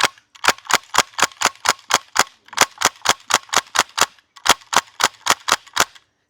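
VFC PPSh gas blowback airsoft rifle firing three quick bursts of sharp, evenly spaced cracks, about eight shots each, loud and close with short pauses between bursts.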